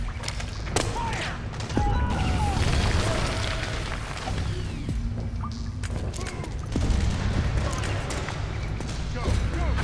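Gunfire and heavy thuds in the video game Metal Gear Solid 4: Guns of the Patriots, a dense running battle of booms and bursts with shouted voices throughout.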